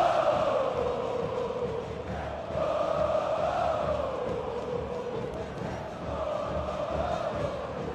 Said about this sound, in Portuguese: E a torcida canta.